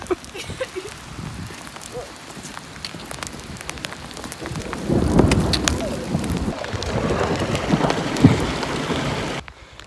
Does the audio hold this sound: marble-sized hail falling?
yes